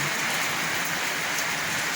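Heavy rain pours down in a dense, continuous hiss, drumming steadily on surfaces nearby with no let-up and no voices.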